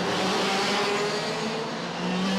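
Racing karts in a WSK Champions Cup final at South Garda Karting, Lonato, a dense continuous high engine whine from several karts at full throttle on the track, steady and loud.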